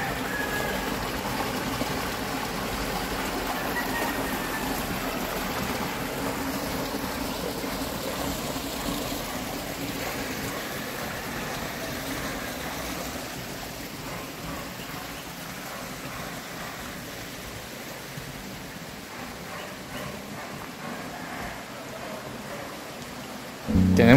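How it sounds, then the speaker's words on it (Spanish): A mountain creek runs steadily beside a cabin in Cofradía de Suchitlán, Comala, Colima, giving a continuous broadband rush of flowing water that stays even and fairly close throughout, with no talking over it. "esperando que puedas escuchar lo increíble que suena el correr del agua"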